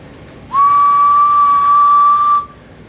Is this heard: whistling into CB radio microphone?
yes